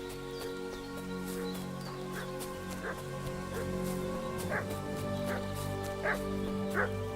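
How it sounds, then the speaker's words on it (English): A dog in the game Kingdom Come: Deliverance II barks repeatedly in short regular bursts, mixed with whimpering yips, over a steady backdrop of game ambience and music. "What's that dog making such a fuss about?"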